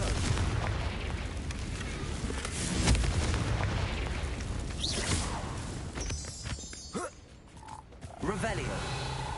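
A Confringo fire spell bursts with explosive booms in Hogwarts Legacy, loud and continuous over a dense layer of game sound, with brief sharper whooshes and crackles near the end.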